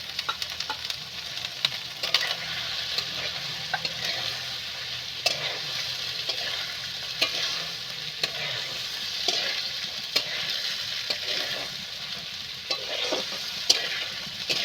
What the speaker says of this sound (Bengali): এইভাবে নেড়ে চেড়ে ভালো করে আমি কষাতে থাকবো